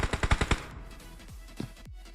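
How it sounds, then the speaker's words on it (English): A quick burst of about five close, sharp gunshots opens the clip in a battle royale video game, followed by a couple of fainter, more distant shots. No one speaks. "Who's taking these shots? It's Banga taking shots outwards."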